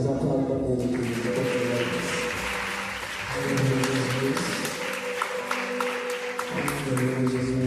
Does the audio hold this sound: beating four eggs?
no